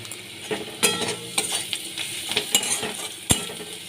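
Onions sizzle in a little oil until reddened while a utensil scrapes and taps the pan several times, irregular clinks over a soft continuous frying hiss.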